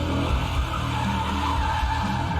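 Big V8 sedan doing a burnout, a dense continuous screech of spinning tires over a deep engine roar, loud and close throughout with no voices.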